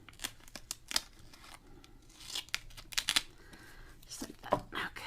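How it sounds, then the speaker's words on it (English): Scissors trim a lace journal page with a series of crisp snips and papery cuts spread irregularly across several seconds, close and fairly quiet. "let's go ahead and trim this down here."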